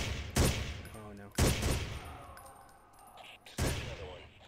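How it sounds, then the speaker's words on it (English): Gunfire in the Ghost Recon tactical shooter game: three loud separate bursts of shots, each with a sharp attack and a decaying tail, spaced irregularly with quieter game ambience between them. "What are you shooting at?"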